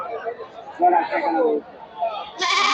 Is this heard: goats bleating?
yes